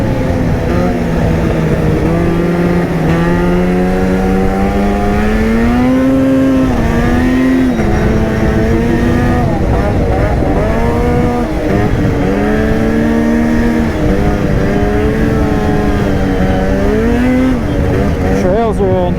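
A Ski-Doo Catalyst platform snowmobile rides along thin-snow trails, its engine rising and falling in pitch with throttle changes, loud and close throughout while a rider talks over it.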